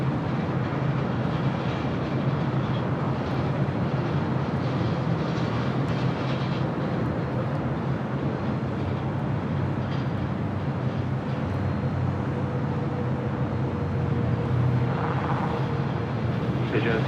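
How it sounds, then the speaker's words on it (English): An ITA Airways A350-900 takes off at LAX, a broad continuous engine roar that holds steady and fairly loud throughout, with faint voices in the background. "Up next for takeoff, ITA A350-900 heading back to Rome."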